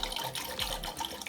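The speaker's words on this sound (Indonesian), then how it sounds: "supaya mudah dikupas, kita siram air es atau air dingin." Ice water or cold water poured over freshly boiled eggs in a pot, a steady splashing, gurgling stream close by that runs unbroken throughout.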